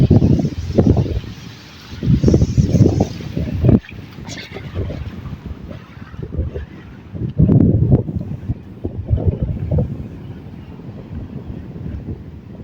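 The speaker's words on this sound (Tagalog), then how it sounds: "Ayan, oh, lumalakas na yung alon." Strong waves and gusting wind at sea during a typhoon, heard from a boat: heavy rumbling surges of water and wind buffeting the microphone come in loud bursts, easing briefly between swells.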